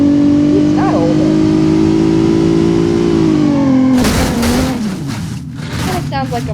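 A Gavril LeGran car engine in BeamNG.Drive revs steadily with a rising, smooth drone, then drops and breaks into rougher bursts of throttle, loud and close, with a voice talking over the later part.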